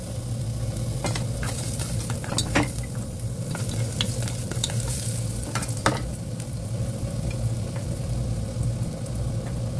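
Ginger sautéing in a pan for seaweed soup: steady sizzling with intermittent scraping and stirring clicks, close and fairly loud, no talking.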